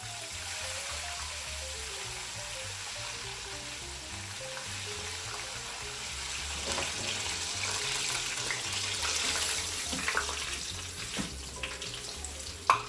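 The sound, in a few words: Cajun chicken deep frying in oil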